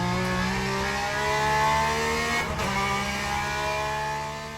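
A Porsche race car engine in the Le Mans Ultimate sim racing game hums steadily from the cockpit with a thin, whirring, hairdryer-like tone, its pitch sliding gently as it revs, loud and continuous throughout.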